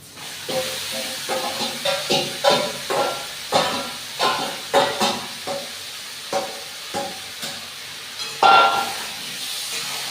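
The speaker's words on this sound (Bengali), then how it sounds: "এবারে আমি এই চিকেনটাকে ছেড়ে দিচ্ছি" Chicken pieces added to a pan of fried onions sizzle and hiss, with a series of sharp bursts of spattering as the food is stirred, close and without talk.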